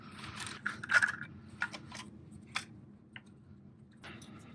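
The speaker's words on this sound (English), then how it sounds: "Tighten it down by hand." A banjo bolt with brass washers is hand-threaded into the turbo feed line on a 2007-era MINI Cooper during oil filter housing gasket work. Faint, close metallic ticks and clicks come in scattered bursts over quiet background.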